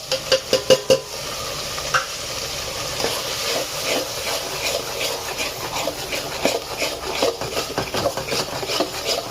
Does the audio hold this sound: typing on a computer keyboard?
no